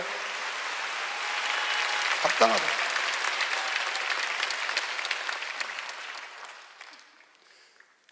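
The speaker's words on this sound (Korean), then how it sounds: "박수 세게 쳐요." A church congregation claps hands together during a sermon, a broad steady wash of applause that swells, holds, then fades out toward the end, with a brief spoken word from the pastor partway through.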